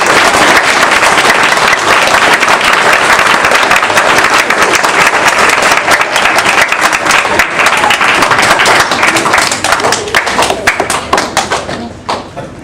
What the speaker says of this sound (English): Everyone, do the round of applause.